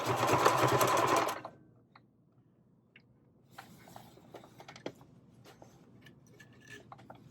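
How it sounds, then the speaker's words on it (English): A sewing machine runs a short back stitch to close a one-inch hole in an ironing board cover, a loud steady whir for about a second and a half, followed by quiet faint clicks and handling sounds. "drop our needle. We're going to do a back stitch."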